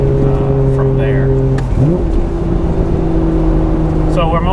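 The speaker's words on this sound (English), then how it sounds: "So I'm also running a full titanium Tomei exhaust with a Mines front pipe. Gives a very unique sound." Car with a full titanium Tomei exhaust and Mines front pipe, its engine note dropping then rising again as it revs, loud and steady near the listener, with low droning tones throughout.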